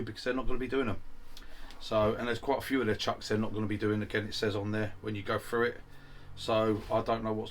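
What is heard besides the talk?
No everyday noises stand out.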